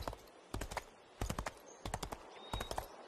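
Horse hooves clip-clop in steady rhythmic bursts while riding along a path in the fantasy game Runes of Magic, several quick clusters of strikes separated by short pauses, close and alone.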